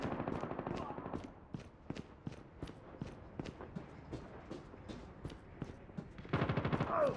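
Automatic gunfire in a multiplayer ranked shooter match, a steady string of sharp, evenly spaced shots, with a louder, denser burst near the end.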